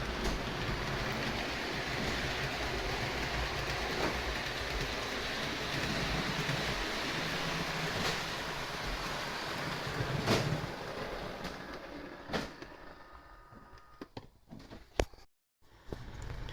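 HO scale model trains run along their track with a steady rolling rumble and faint clicks, the sound breaking into sparse scattered clatters toward the end.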